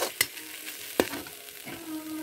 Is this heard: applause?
no